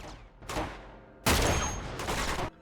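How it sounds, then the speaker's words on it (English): Gunfire in Uncharted 2 as snipers are shot, a loud close burst followed by a longer rattling volley with echoing tails, and no talk. "The 2 snipers in the back won't move any closer, so I have to shoot them."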